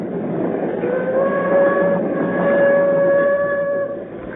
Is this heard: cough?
no